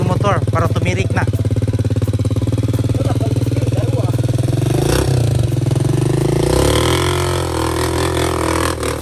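A motorcycle engine drones and labors on a rough, unrepaired road, a steady close rumble with clattering surges toward the end and voices talking over it.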